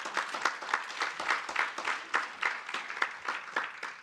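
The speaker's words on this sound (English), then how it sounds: "So big round of applause." Rhythmic clapping from a modest audience at a corporate talent summit event, fairly quiet and even, with individual claps distinct in a regular beat.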